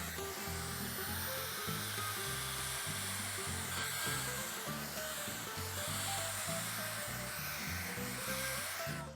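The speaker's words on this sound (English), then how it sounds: "So I'm just going to spray some water down and do a few extraction passes." A Shark StainForce carpet cleaner sprays and extracts water: a loud, continuous mechanical whine and hiss of spraying and suction runs throughout, with a rhythmic pulsing motor drone underneath.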